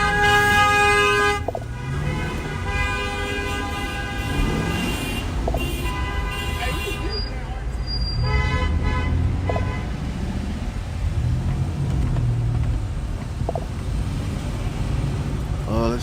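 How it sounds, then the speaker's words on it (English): Car horns honk in a city street on Lake Street in Minnesota during a tense gathering, with long sustained blasts and scattered toots over crowd noise and traffic rumble, while people talk nearby. "can hear all the car horns"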